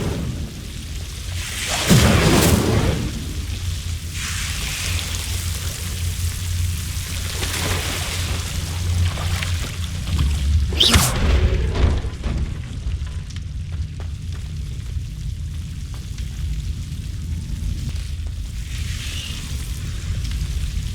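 The Incendio fire spell cast in Hogwarts Legacy: two loud whooshing bursts of flame, one near the start and one midway, over a constant rumbling background of game ambience.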